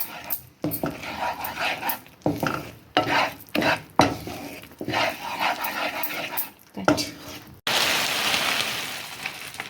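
A spoon stirs ghee into a thick peanut barfi mixture in a pan with repeated scraping, dragging strokes over a faint sizzle, ending in a brief burst of steady hiss.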